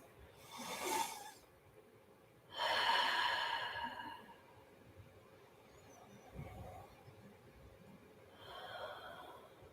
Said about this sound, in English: So make them deep, intentional breaths.